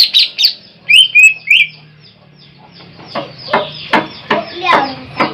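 Green leafbird (cucak ijo) calls ring out in bright, high chirps and short whistled phrases, loud and close. Harsher rapid chattering bursts follow, and there is a faint murmur of voices underneath.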